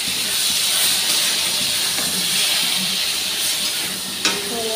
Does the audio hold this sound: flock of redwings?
no